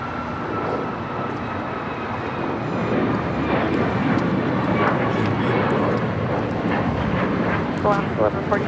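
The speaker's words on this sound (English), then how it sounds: "This is Alaska Airlines 1147 taking off to Seattle on a MAX 9." Alaska Airlines Boeing 737 MAX 9 taking off from LAX bound for Seattle, its engines a broad, steady roar that builds slightly, heard from a distance while people talk over it.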